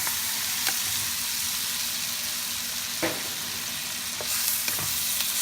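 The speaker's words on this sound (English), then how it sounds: "Let's give it a good stir." Pork belly lechon kawali sizzles steadily in a hot pan while a utensil stirs it, with a few sharp scrapes and clinks against the pan rising over the constant frying hiss.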